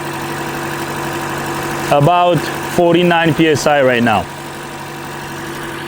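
A Toyota Corolla engine idles steadily after a fuel pump repair, a low constant hum running throughout while someone talks over it in the middle.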